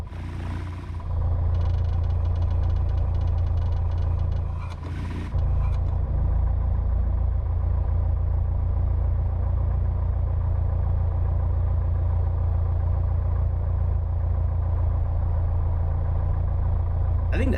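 A Piper Warrior II's piston engine in the X-Plane flight simulator drones as a steady, even rumble that continues throughout, with a brief change in tone early on.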